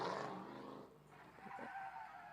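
A Mazda Miata drifts on a drift track, pulling the handbrake so the tires skid and squeal in a sustained, fairly distant screech that dips and then rises again with engine noise.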